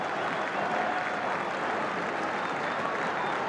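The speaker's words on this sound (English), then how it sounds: "It brings applause from the Rangers fans." A large crowd of football fans at a Hearts v Rangers match applauds steadily, a dense wash of clapping heard from a distance that holds level throughout.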